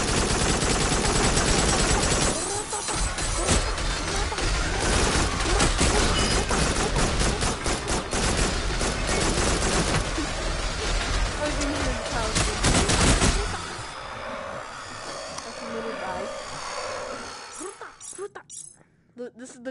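Rapid gunfire from the player's big gun in the VR shooter Farpoint, loud dense automatic bursts sustained for about thirteen seconds before dropping to quieter, sparser game sounds.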